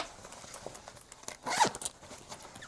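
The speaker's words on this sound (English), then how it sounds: "this is about the width of it once you unzip it" A zipper on a fabric packing cube is pulled open in one quick, bright zip near the middle, fairly close and quiet against a soft background.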